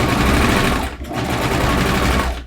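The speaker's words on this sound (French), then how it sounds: "je fais la surjeteuse" An overlock serger runs in rapid mechanical chatter as it stitches around the edge of a garment, loud and close, with a brief pause near the middle before resuming; no one speaks.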